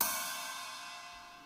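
A dry ride cymbal with no effects rings out as a single struck note, bright and shimmering, decaying slowly and evenly over about a second and a half with nothing else underneath.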